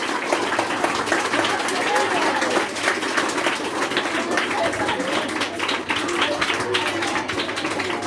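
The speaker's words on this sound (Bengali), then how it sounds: "আমরা করতালির সহযোগে" Audience clapping at a school Rabindra Jayanti ceremony while teachers offer flowers at Tagore's portrait, a sustained, dense round of applause from a crowd.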